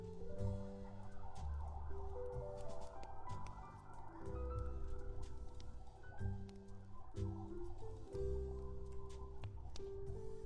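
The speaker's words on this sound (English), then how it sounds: "there's like a ton of sirens going off." Wailing sirens rise and fall in overlapping tones, muffled as if heard from indoors, with a constant low background rumble.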